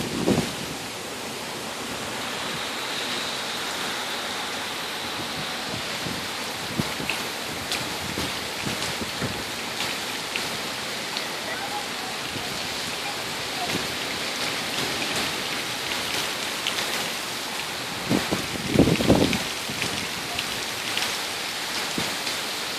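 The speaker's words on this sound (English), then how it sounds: "It's raining." Rain falls steadily outdoors during a severe thunderstorm in Red Oak, Texas, a constant hiss of drops on surfaces with scattered nearer patters and splashes, continuing without talk throughout.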